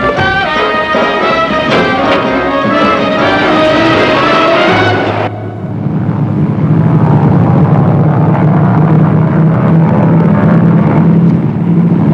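A loud, steady engine drone fills the whole stretch, shifting abruptly partway through to a lower, rumbling hum with no voices.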